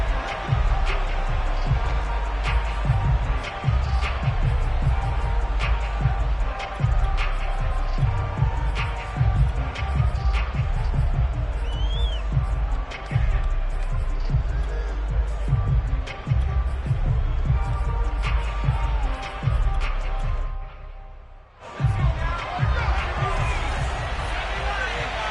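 Stadium crowd at an NFL game between the Detroit Lions and Chicago Bears, a steady loud roar and cheering throughout, with a commentator talking over it and a brief dip near the end.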